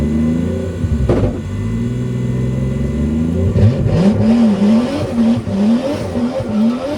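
A race-prepped car's engine revs during a skidpad run at full steering lock, rising and falling in repeated surging sweeps with a sharp blip early on, loud and close from inside the cabin, no speech.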